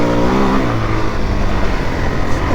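A Suzuki DRZ 400 dirt bike accelerates on a trail, its engine a loud, close, steady droning roar that holds through the short stretch.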